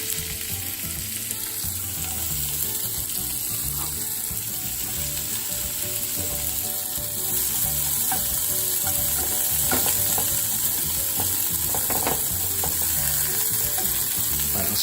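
Green pepper and broccoli frying in a hot pan for an omelette, a continuous close sizzle with scattered crackles and stirring scrapes, swelling slightly louder toward the end.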